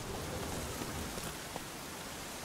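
Rain in The Witcher 3 falls as a steady, dense hiss of drops on surfaces, soft and continuous with no other sounds over it.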